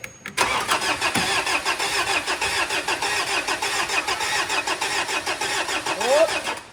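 A Mitsubishi Montero engine cranks and catches, then settles into a steady, fairly close idle with a brief rev near the end, with no talking over it.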